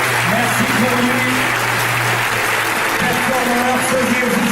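Steady applause from an audience for the performer Silvio Boligno, a Charlie Chaplin look-alike, continuous and fairly loud, with talking over it.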